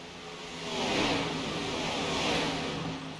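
Race cars at Daytona roar past in two rising and falling surges of engine noise, loud and continuous, like a pack sweeping by on the track.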